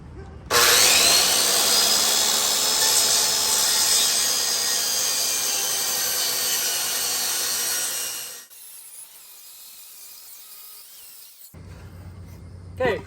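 A wooden board is sawn at an angle for a goat hay feeder build: steady, close rasping strokes run continuously for about eight seconds, then stop, leaving quiet handling noise afterward.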